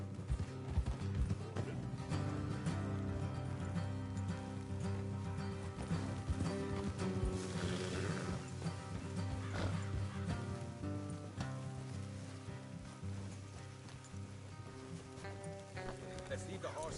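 Horses trot with rhythmic clip-clopping and occasional neighs in the Western video game Red Dead Redemption 2, faint beneath creaking tack, background music and characters talking.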